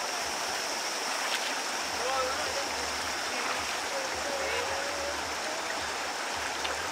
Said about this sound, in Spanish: Esto no es una piscina, esto es un río.